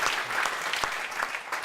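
An audience claps before an improv show starts, a short burst of dense, even applause with a few sharper individual claps standing out.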